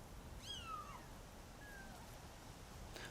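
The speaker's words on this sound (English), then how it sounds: "It's a cat. Sounds like a kitty." A small kitten mews faintly a few times, thin high cries, two close together and another later, over a quiet background hiss.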